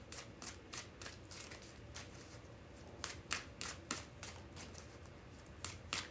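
Tarot cards being shuffled by hand, a run of quick crisp riffling bursts at an uneven rhythm, close and fairly quiet against a low background hum.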